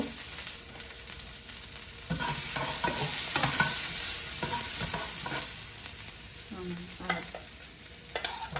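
Onion and hot pepper hit a hot pot of oil for a Jamaican brown stew fish, a sizzle broken by repeated scraping spoon strokes as they are stirred, with no one speaking.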